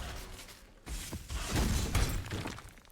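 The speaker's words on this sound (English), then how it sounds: "the sound the Glacial Hammer skill actually does" The Glacial Hammer skill impact from Path of Exile: a crunchy, icy hit with shattering debris and a whooshing burst, short and punchy, swelling midway and then fading out.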